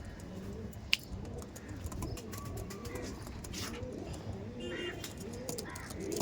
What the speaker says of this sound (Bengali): এটা মালবাহী পায়রা।